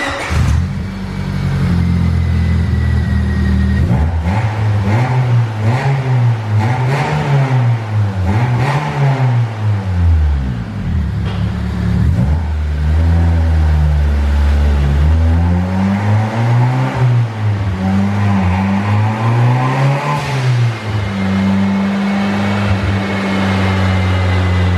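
A turbocharged single-cam EG Civic hatchback engine revs loudly and repeatedly, its pitch climbing and falling in several sustained pulls close to the microphone, with no voices over it.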